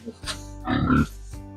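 Short bursts of low snorting grunts from piglets, close by, with a louder cluster in the middle of the clip.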